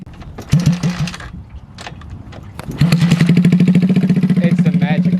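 A Skyteam PBR motorcycle's small engine sputters, catches, then runs with a rapid steady putter close by after a brief stumble, with voices talking over part of it.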